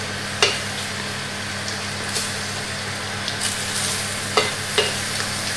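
Marinated lamb pieces fry in a mix of butter and oil with onions, giving a steady close sizzle with a few sharp clinks and scrapes of stirring.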